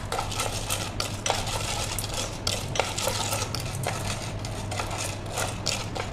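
Popcorn kernels being stirred through vegetable oil in a pot over a medium-low gas flame, a steady run of close scraping and rattling strokes over a constant low hum, with no voices.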